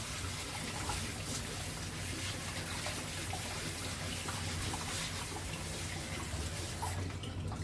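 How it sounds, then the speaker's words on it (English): Rice being rinsed in water at home before cooking, a steady close wash of running and swirling water that continues without a break, with no voices over it. "So I've washed the rice."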